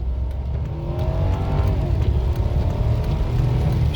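A car with freshly fitted brakes and rotors drives through a brake bed-in run, its engine and road roar holding steady and close for the whole stretch, rising slightly toward the end, with no talking.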